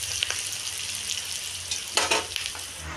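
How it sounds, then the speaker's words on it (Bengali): Chopped onion with green chillies frying in a pan and being stirred, heard as a close, steady sizzle with a few brief scraping bursts from the utensil. "পেঁয়াজ কুচি, ভালো করে নেড়ে নেবো"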